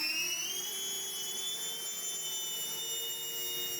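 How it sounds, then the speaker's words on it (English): Electric motors of a 3D-printed RC VTOL aircraft spooling in vertical takeoff, a steady high-pitched whine with tonal harmonics that rise gently in pitch, continuous and close. "Vertical takeoff."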